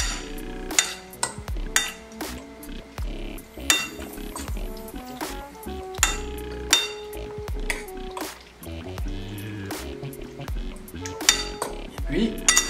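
Noodles being stirred in a pan for a stir-fry with vegetables and chicken, giving repeated clinks and scrapes of utensil against metal in an uneven rhythm, close and fairly loud, with no talking.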